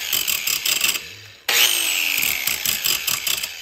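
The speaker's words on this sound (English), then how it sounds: "But I start the grinder." A bench grinder spinning up and touching the teeth of a chainsaw chain during sharpening, a steady high whir with a sudden louder grinding onset midway that holds to the end, close and alone with no talk.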